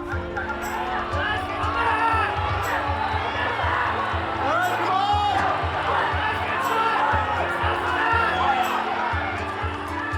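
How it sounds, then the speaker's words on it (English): Crowd at a horse race track cheering and shouting as horses round the final corner, a loud sustained roar of many voices with individual yells rising out of the din. "When the horses came around the last corner, the cheering got electric"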